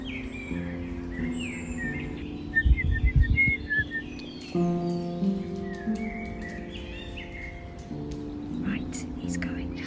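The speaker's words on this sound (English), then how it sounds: "I'm just watching these great tits flying in and out" Great tits near a nesting box give thin, high chirps and short calls in scattered bursts, fairly faint beneath close whispered talk and a low hum.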